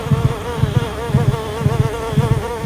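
A fly buzzing in the Roblox horror game The Mimic, a loud close drone that pulses in a steady rhythm of repeated swells, heard alone without talk.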